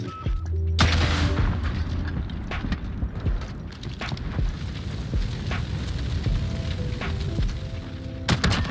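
Explosions and gunfire fill a Search and Destroy match, heavy booms and crackling blasts rolling over one another, loud and continuous, with a fire shotgun in play.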